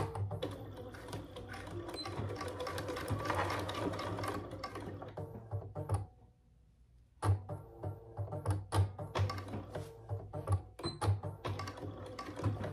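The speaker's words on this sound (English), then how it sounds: "we're just going to sew right along that line, dividing all of these pockets into 2." A sewing machine stitches a straight line dividing pockets in a bag hardware case, its rapid mechanical chatter running steadily, halting briefly for a quiet gap, then resuming in short bursts with thumps.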